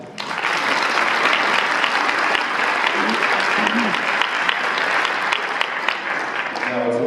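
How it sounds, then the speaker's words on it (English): A large audience at a keynote address on labor bursts into loud, sustained applause, thick and even for several seconds, with only scattered murmurs underneath. "will you join me again in sharing a terrific round of applause for K7 and Jolene Nelson?"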